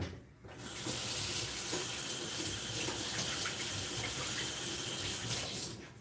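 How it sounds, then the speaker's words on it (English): Hands being washed under a running kitchen sink tap: water switches on and gushes steadily for several seconds close by, then shuts off. "I'm going to go wash my hands and be right back."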